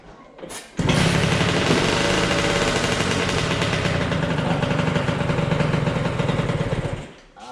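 A two-stroke drift kart engine with a freshly cleaned carburettor is pulled over, catches after a brief false start and then runs loud and steady with a rapid buzzing rhythm for about six seconds before cutting off.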